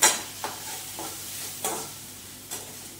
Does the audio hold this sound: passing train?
no